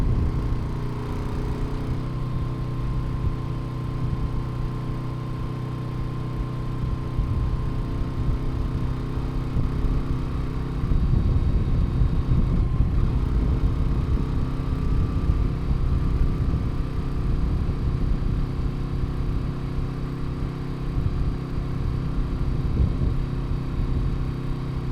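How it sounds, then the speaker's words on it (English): A Moto Guzzi V7 850 motorcycle engine drones steadily at low pitch, with rumble and wind rising partway through as the bike rides along; no voices. "They're just great, fun motorcycles."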